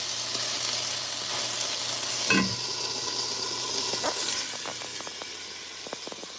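Chicken fingers frying in a pan on a stove, a steady soft sizzle and hiss with a brief louder burst and a few small crackles and pops toward the end, no talk.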